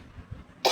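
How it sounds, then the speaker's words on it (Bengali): A single quiet cough, close by, followed by a brief louder breathy burst at the end. "আবার একটু কাশিও আছে"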